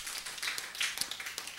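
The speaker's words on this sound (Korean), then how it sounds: "우리 축하의 박수 드리겠습니다" A church congregation at a Sunday worship service breaks into congratulatory applause, a dense, steady patter of many hands clapping together for under two seconds.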